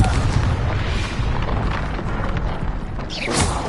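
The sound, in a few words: Confringo fire-blasting spell explosion in a Harry Potter video game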